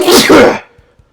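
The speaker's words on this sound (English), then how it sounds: "I've hit the age where I now sneeze loudly" A single loud, close sneeze bursts out and stops sharply, followed by a couple of soft breathy sounds.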